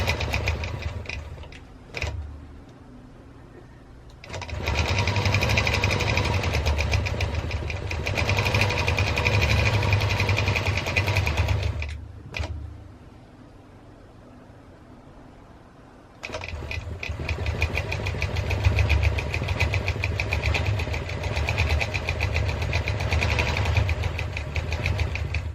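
A longarm quilting machine stitches binding onto a quilt with a rapid, loud, steady mechanical hum in two long runs. Quieter idle stretches and brief pauses separate the runs.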